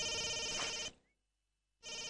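Mobile phone ringtone in a movie scene, a loud electronic ringing burst that cuts off into near silence for about a second, then starts again.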